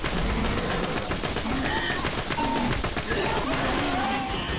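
Rapid turret gunfire crackles through a Borderlands 2 firefight, dense continuous bursts of shots layered with game effects and a voice talking over the top.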